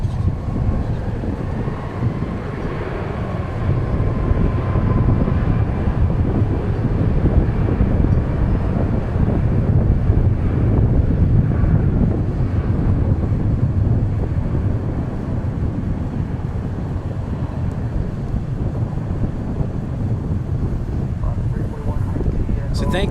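Alaska Airlines jets taking off and landing at DFW Airport, a continuous loud low engine roar and wind rumble filling the whole stretch, steady with slight swells, while people talk faintly beneath it.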